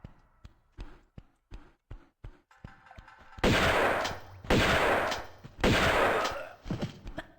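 Shotgun fire in Tomb Raider 2 Remastered: a steady run of quick, lighter gunshot cracks gives way to three heavy, booming blasts about a second apart, loud and close, with no talking.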